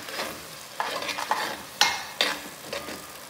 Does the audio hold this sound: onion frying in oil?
yes